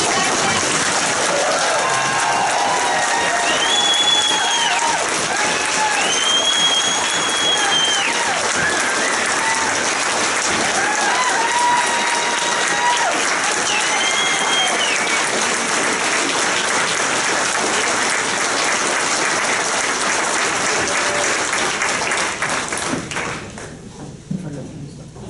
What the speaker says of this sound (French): Mesdames et messieurs, applaudissons chaleureusement nos diplômés